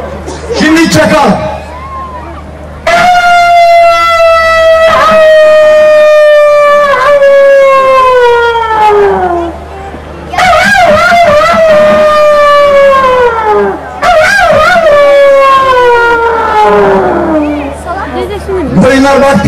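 A voice imitates a jackal's howl: long sustained wailing calls that slide downward, repeated several times with short breaks, loud and close.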